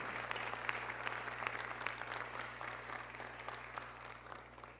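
A church congregation applauds during a worship testimony, a soft, somewhat distant patter of clapping over a steady low hum.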